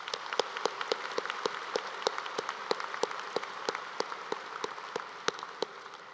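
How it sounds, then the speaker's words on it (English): A graduate commencement audience at the University of Georgia applauds platform guests, a steady patter of many hands with a few sharper, closer claps standing out sharply, moderately loud and with no talking. "Please join me in a round of applause for these platform guests."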